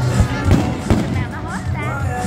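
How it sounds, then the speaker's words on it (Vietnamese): New Year 2023 fireworks at a Winterfest celebration go off in several dull, muffled booms at a distance, partly masked by people talking nearby. "Nghe thấy nó nổ ra xong, nó nở ra xong nó mới nổ."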